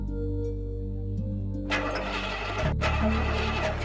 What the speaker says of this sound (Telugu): బండి స్టార్ట్ అవ్వట్లేదండి